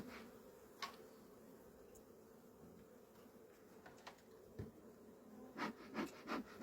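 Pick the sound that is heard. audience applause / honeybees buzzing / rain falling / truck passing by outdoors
honeybees buzzing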